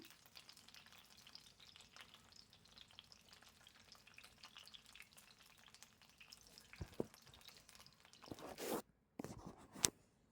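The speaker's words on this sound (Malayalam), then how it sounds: "എല്ലാ സൈഡും ഒന്ന് ഫ്രൈ ആയി കിട്ടട്ടെ." Brinjal pieces fry in oil for a Kerala-style curry with a quiet, continuous sizzle. Toward the end, a few louder scraping stirs and clatters from the pan break in.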